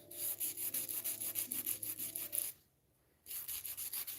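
Wood is sanded by hand with sandpaper in quick, even back-and-forth rubbing strokes, close and crisp, then a short pause before the scratching resumes.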